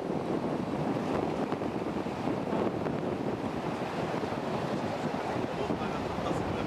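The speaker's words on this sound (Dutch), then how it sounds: "En het blijft maar waaien vandaag." Strong wind gusting at a sunny beach resort, steady roaring buffeting with surf noise underneath, loud and continuous throughout.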